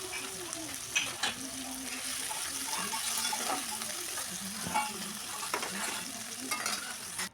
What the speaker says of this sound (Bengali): এদিকে আমি কিন্তু চিংড়ি মাছটা আগে ভেজে নিচ্ছি